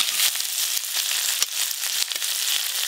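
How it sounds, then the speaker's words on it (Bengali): Dried red chillies, bay leaves, five-spice and chopped onion sizzle in hot oil in a wok, a loud, steady hiss of frying with faint stirring knocks and no voices. "ডালটা এক ফোড়নেই করবো, তার জন্য কড়াইতে শুকনো লঙ্কা, তেজপাতা, 5 ফোড়ন দিয়ে দেবো।"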